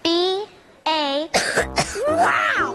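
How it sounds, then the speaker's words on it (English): A person in a cough medicine commercial lets out two strained, drawn-out vocal coughs followed by a burst of harsh hacking and throat-clearing, loud and close. "Wow, that was some cough."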